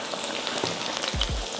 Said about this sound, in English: this is gonna fry for about 5 minutes or so